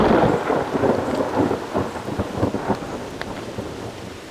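Heavy rain falls outside a studio in the Hudson Valley, a steady loud hiss of rain with low rumbling thunder rolling through, no voices.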